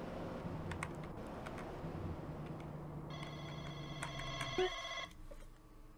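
Phone ringing in the video game GTA San Andreas Definitive Edition, a tonal electronic ringtone that comes in midway and stops abruptly, with game ambience and clicking before it.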